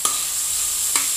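Pork simmering in a pan for Bicol express: a steady, close bubbling sizzle fills the whole stretch, with two brief clinks of stirring and no talk.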